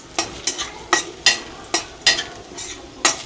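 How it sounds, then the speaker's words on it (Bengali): Garlic frying in a pan, with regular spatula strokes roughly every third of a second scraping loudly over a soft, continuous sizzle, close up and with no talking. "সুন্দর একটা রসুনের গন্ধ আসবে, ভাজা ভাজা।"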